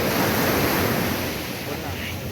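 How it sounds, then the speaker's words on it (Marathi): Sea waves wash onto the shore at Anjuna Beach in North Goa, a steady close surf roar mixed with wind rumble on the microphone, fading slightly toward the end. "हा आहे अंजुना बीच आणि अंजुना बीच खूप क्लीन आहे"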